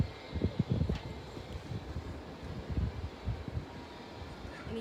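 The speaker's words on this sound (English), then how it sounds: "It's pretty windy." Gusty wind buffets an outdoor microphone during a live home cooking session, producing low rumbling bursts and irregular thumps that rise and fall without any voice.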